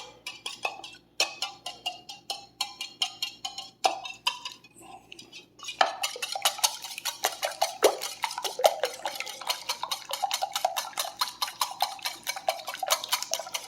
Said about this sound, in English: we're going to beat up these eggs